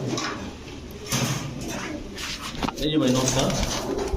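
A pair of Mehendi Chila Chuithal pigeons coo in low, soft repeated calls, close by and mostly under someone talking over them.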